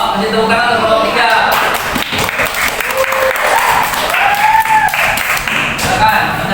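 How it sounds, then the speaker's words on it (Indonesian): Applause from a classroom group rings out for a student team, steady dense clapping across the whole stretch with voices talking and calling out over it. "yuk kasih tepuk tangan untuk kelompok 3"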